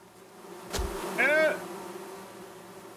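A swelling buzz from bees around a bee's nest in the video game Among Trees, rising and fading over about a second above a steady game ambience, with a dull thump just before it.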